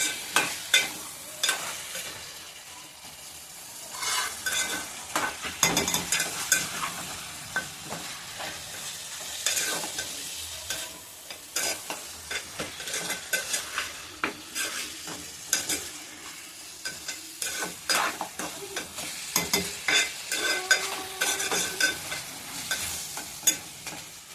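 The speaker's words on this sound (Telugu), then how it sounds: "నేను రెండు వైపులా తిప్పుతూ మొత్తం కలిపేసుకోవాలి" Food in hot oil in a pan is stirred and turned from both sides, so a continuous sizzle is broken by repeated scraping and clacking strokes of a spoon against the pan.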